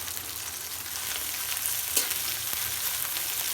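Onion, green chilli and garlic fry in hot oil in a kadai, giving a steady close sizzle with faint stirring clicks and no talk.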